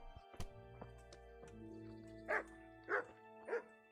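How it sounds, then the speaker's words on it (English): Dogs bark in Kingdom Come: Deliverance, several sharp barks and yips spread across the moment, with three louder barks close together near the end over a quiet game backdrop. "Wait, these dogs."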